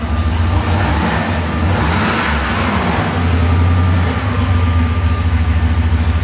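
A 1967 Pontiac GTO convertible revs up through its stock exhaust, the engine climbing steadily and loud and close. It holds a rough rumble throughout, with no talk over it.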